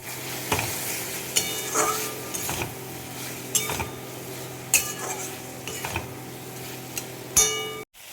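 Spice paste fries in oil for a silver carp curry with a close sizzle, interrupted by regular spoon scrapes and clinks against the metal pan.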